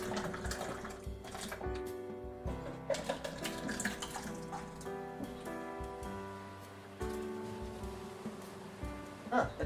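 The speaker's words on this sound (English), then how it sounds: "I'm also gonna pour up my soup." Homemade soup being poured into a bowl, a continuous watery splashing and trickling with small clinks and bumps of the pot, close and fairly loud.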